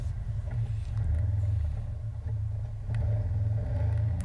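A CFMOTO ZFORCE 800 EX side-by-side crawls in low gear over a rough November trail in Ontario, Canada, its engine a steady low rumble with slight swells, heard from on board and without talk.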